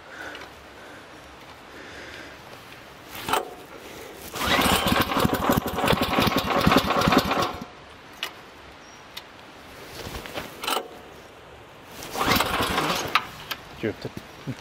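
A small engine cranks and sputters to life in two rough bursts, running briefly with a buzzing rattle before cutting out into quiet gaps.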